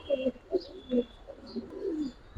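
Giribaz and coloured pigeons in a collection give a series of soft, low cooing calls, several short coos in a row at close range, with faint background noise.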